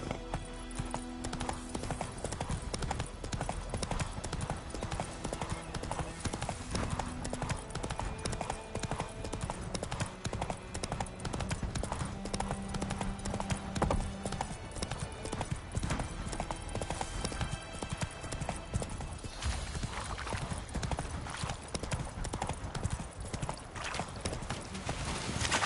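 The horse Roach gallops in the video game Witcher III with a steady, rapid clip-clop of hooves that runs continuously over a layer of game ambience and music, with occasional faint whinnies.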